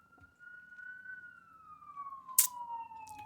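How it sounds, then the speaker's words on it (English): A single siren from an emergency vehicle on a Philadelphia street sounds in a long, steady wail that slowly falls in pitch, moderately distant, with a brief sharp noise partway through. "We've got fire trucks, ambulance, police all the time."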